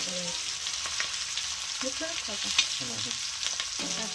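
Mutton fries in oil with a steady close sizzle and crackle, with faint stirring or pressing clinks scattered through it and no talking.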